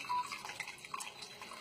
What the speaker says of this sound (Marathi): आता हे त्याच्यामध्ये पाणी टाकतात